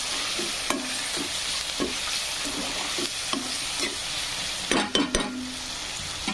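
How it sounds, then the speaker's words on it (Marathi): A spice tempering of home-made black masala, salt, turmeric and coriander powder sizzles in hot oil. It makes a steady, close hiss, broken by intermittent scraping clicks as a spoon stirs through the pan. "छान फोडणी बसलेली आहे."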